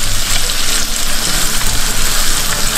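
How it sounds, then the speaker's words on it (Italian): Guanciale browns in a pan for an amatriciana, giving a steady, loud, close sizzle and crackle of rendering fat that continues without pause. "Facciamo continuare a rosolare il guanciale."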